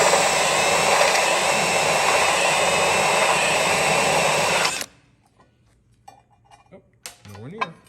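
A drill steps up and hogs out a hole in a metal part, giving a steady, loud whine for about five seconds that then stops abruptly, followed by quiet shop sounds and brief talk.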